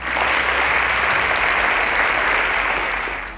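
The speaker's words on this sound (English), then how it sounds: "A round of applause for Chinelolum's teacher." A studio audience at a Nigerian quiz show semi-final gives a contestant's teacher a dense, loud, even round of applause, sustained without pause and easing off slightly at the end.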